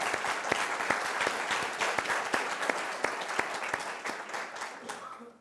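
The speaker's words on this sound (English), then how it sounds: "let's give them a round of applause." Audience applause at a campus talk, a steady dense patter of many hands clapping continuously at close range, holding fairly even before tapering slightly at the very end.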